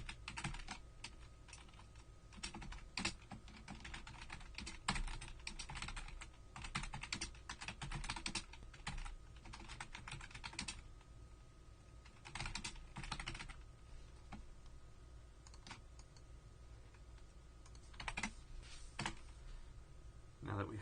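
Code being typed on a computer keyboard, rapid close key clicks in uneven bursts and pauses, with a voice talking throughout.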